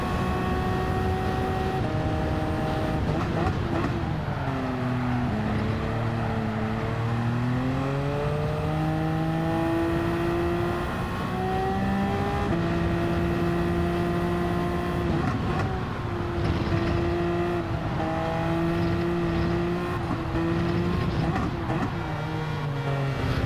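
A race car engine in a video game race at Interlagos revs and climbs through the gears, pitch rising and dropping sharply at each shift, loud and sustained throughout with a rival car's engine layered in.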